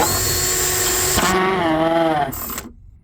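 A power drill whines loudly, its pitch dropping and wavering as it bites into material, then spinning down and stopping after about two and a half seconds, boring a mounting hole for an engine coolant overflow tank.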